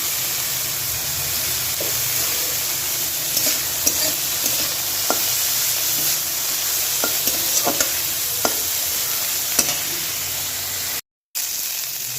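Bitter gourd and pumpkin stir-frying in a pan, with a steady sizzle under repeated spatula scrapes and clicks, close and moderately loud, with no talking.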